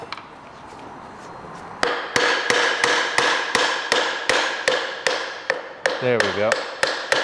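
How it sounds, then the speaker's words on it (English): Mallet blows strike the engine shaft of a Vespa 150 3V Primavera/Sprint bottom end to free the wheel, about a dozen sharp, evenly spaced taps up close, with a short spoken remark near the end. "you may wanna hit it with a mallet from the backside"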